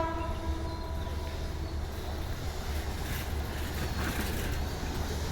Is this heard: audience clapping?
no